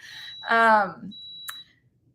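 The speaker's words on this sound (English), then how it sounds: "That's my rice cooker beeping." A rice cooker's steady high electronic beep tone sounds over a person talking, then continues alone briefly before a short click-like burst and silence.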